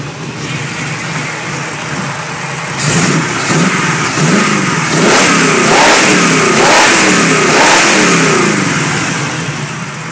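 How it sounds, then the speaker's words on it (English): A 1922 hot rod engine idles with a rough, loud rumble, then revs up several times in rising and falling surges, heard close and alone. "let you all have a listen, rev it up a few times"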